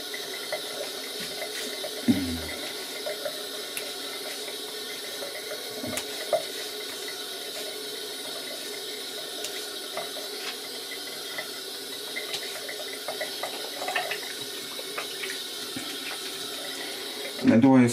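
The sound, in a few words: water running from tap into bathroom sink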